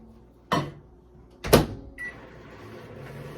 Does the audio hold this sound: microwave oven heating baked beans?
yes